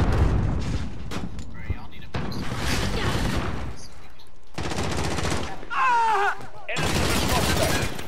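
Bursts of gunfire and explosive blasts in the video game Modern Warfare, loud and dense in repeated volleys, with a player talking over the action.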